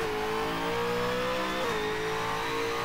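A race car powers out of a hairpin at Symmons Plains, its engine note climbing steadily and loud throughout, with a brief dip where the gear changes partway through before it pulls on strongly.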